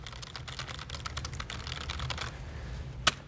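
Rapid typing on a computer keyboard while entering random text in the Vim editor, a close flurry of light clicking keystrokes ending in one sharper key press.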